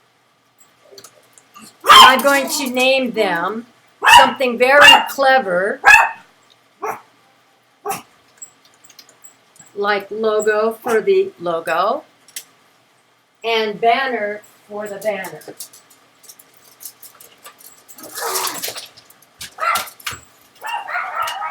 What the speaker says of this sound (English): Sorry about the dog noise.